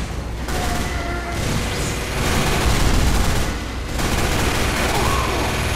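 Loud, dense gunfire from a video game shootout, with overlapping bursts and booms rolling almost continuously and swelling in the middle.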